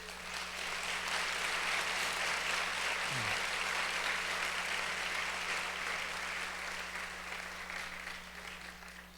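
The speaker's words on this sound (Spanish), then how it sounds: "Dale un fuerte aplauso a Dios." Church congregation applauding together, a steady, dense wash of clapping that fills the whole stretch, loud at first and tapering slightly toward the end, with no voices standing out.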